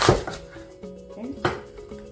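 A kitchen knife cuts a head of cabbage down the middle on a board, with a sharp chop at the start and another thud partway through as the blade hits the board.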